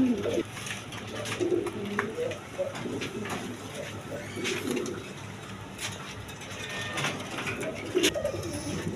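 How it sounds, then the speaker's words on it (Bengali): Fantail pigeons at a pigeon seller's coo repeatedly in soft, low rolling calls, with other birds murmuring close by under a steady background hum. "এখানে এক পেয়ার ফ্যান্টাল কবুতর আছে"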